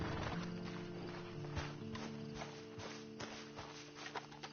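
Steady clip-clop of horse hooves walking in Red Dead, rhythmic and moderately close, under a continuous musical and ambient background.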